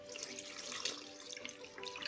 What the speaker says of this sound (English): And we're gonna add 1 cup of